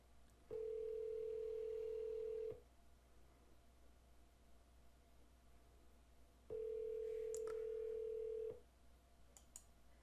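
An outgoing Google Voice phone call rings back twice, each a steady two-second electronic tone separated by a long quiet gap, clear but soft over faint background hiss.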